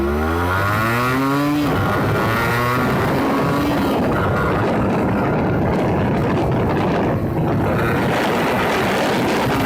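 A 1991 Yamaha RX100 two-stroke motorcycle revs hard, its engine note climbing in pitch before settling into a loud, raspy, continuous buzz close by.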